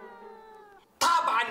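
A cat gives a drawn-out, tonal meow that fades over almost a second, then a sudden loud burst of noise cuts in.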